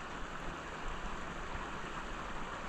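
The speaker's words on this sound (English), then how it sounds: "This is my favorite time when it's rainy." Rain falls steadily by a river under low cloud, a soft, even hiss of drops heard faintly, with no voices.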